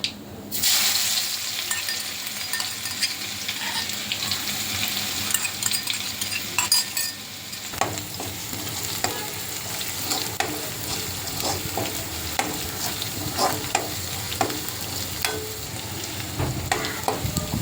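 Ginger and garlic with cumin seeds sizzle steadily in hot oil in a pan, a continuous frying hiss with scattered stirring scrapes throughout and no talking, for a North Indian style toor dal curry.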